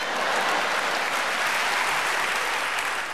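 A comedy club audience bursts into loud, sustained clapping that fills the room evenly from start to finish, with no voices over it.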